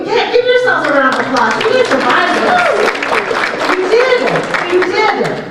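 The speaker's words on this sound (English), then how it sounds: "give yourselves a round of applause" A room of people claps and applauds for several seconds, loud and close, mixed with cheering voices and chatter.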